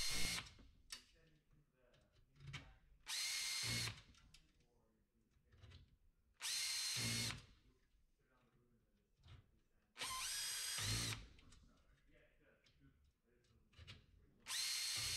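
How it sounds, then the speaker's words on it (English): Screw gun with a driver bit tightening the spoke nipples on a bicycle wheel: short, loud whirring bursts of a few seconds each, separated by pauses with quiet handling noise and some talking. "the screw gun is easier than the spoke wrench, than tightening the spokes with the spoke wrench like we did before"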